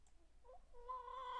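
Buffy, a pet chicken, gives a short run of soft, rising clucks and a drawn-out tonal call, faint and close in a quiet room.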